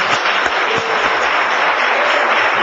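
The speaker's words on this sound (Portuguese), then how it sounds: "Só aplaude quem entende, por favor." A church congregation claps through a sermon, with loud, dense applause filling the full short stretch at an even level.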